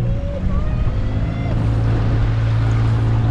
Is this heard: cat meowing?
no